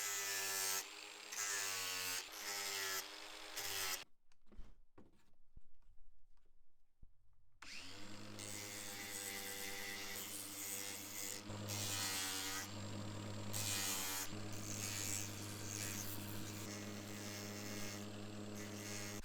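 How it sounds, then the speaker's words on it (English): A steady electric whine of an angle grinder with a sanding disc, interrupted by a brief pause, then resuming with a rough abrasive hum against wood. "Next, I'll use a sanding disc on my angle grinder to do a little sculpting."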